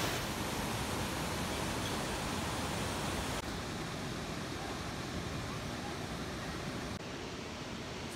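Rushing water pours steadily at the Tatai waterfall in Cambodia, a dense, even roar that holds constant throughout with only slight drops in level.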